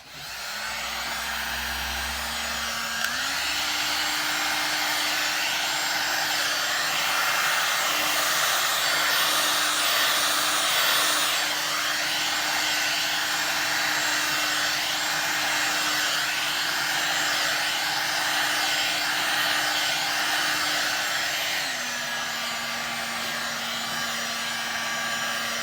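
A handheld hot air blower blasts steadily on resin, a loud continuous whooshing roar that shifts pitch slightly once it gets going and holds for over twenty seconds before easing back.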